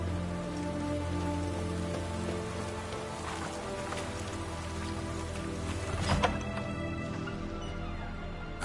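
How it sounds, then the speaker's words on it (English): Steady, hissing rain in The Witcher 3 on PS5 patters continuously at an even level, with faint background tones underneath. "Looks like rain."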